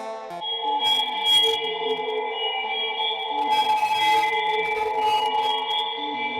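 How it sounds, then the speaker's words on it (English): Synth instrument in Drambo running through a resonant reverb effect: sustained ringing, layered tones with shimmering metallic overtones and short noisy bursts, clean and moderately loud with no voices. "let's put that reso reverb effect back in there"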